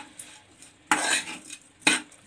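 Cooked vegetables are stirred into the tempering for vermicelli upma, giving a few distinct scraping clatters of a spoon against the pan, close and separated by quiet pauses.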